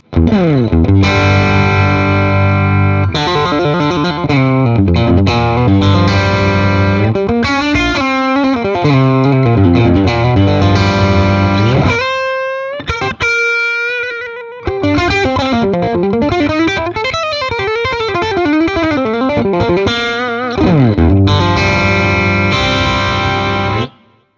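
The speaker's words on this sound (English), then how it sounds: "Now if I bring the gain up, drop the volume back slightly" A loud, heavily distorted electric guitar plays sustained chords and riffs through an Orange Rocker 15 tube combo amp, with a brief lighter passage of single ringing notes midway.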